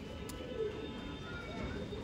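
A pair of pigeons, male and female, cooing steadily nearby, low rolling coos in a continuous murmur with one brief higher click near the start and a steady background hum.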